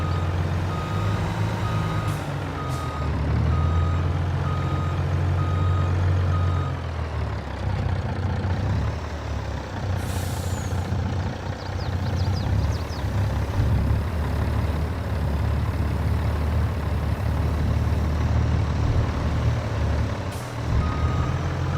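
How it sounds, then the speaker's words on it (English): A big dump truck on a construction site for a large wall, its engine rumbling loudly and nearby throughout, with repeated reversing beeps and short hisses of air brakes over the idle. "Bigger dump truck, holy cow."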